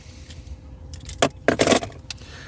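Two key fobs for a 2020 Peugeot e-208 electric car jangle in a few quick bursts, close and fairly loud, with short metallic clinks between quieter handling pauses.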